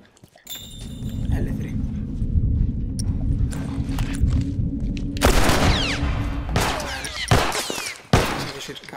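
Gunfire in The Last of Us video game: a burst of loud, sharp shots crackles in quick succession over a low game background rumble, with more cracks following near the end.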